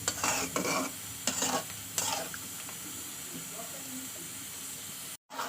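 Spice masala with meat and tomato fries in a pan, a steady close sizzle broken by several scraping bursts of stirring, with a short dropout near the end.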